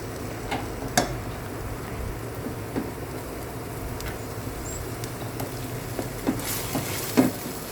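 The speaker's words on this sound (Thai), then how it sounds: "เราจะใช้ไฟแรงพอประมาณเนาะผัดหมู ผัดหมูให้เข้า ให้พริกแกงเข้าเนื้อนะ" Pork loin near the neck being stir-fried with curry paste in a pot over moderately high heat, producing a steady soft sizzle with occasional light clicks and scrapes of stirring, close by and without speech.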